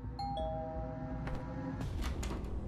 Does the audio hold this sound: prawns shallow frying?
no